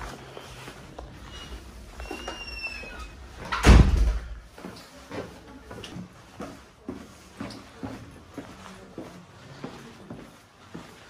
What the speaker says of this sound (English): There's a push door.